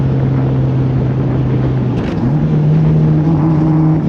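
A K20-swapped Honda Civic idles with a loud steady hum, dips briefly, then settles back to a slightly higher steady drone as the throttle is cracked gently, the engine held back by a cutting-out fault.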